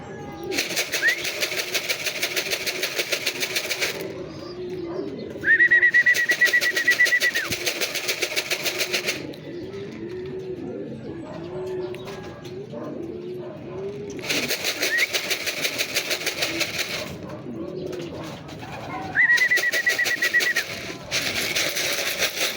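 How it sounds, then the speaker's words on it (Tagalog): Racing pigeons coo and arrive at a loft after a hard race, soft bird calls coming in bursts over a steady background engine-like hum, with occasional louder tonal chirps. "Yan, may ibon pa dumating."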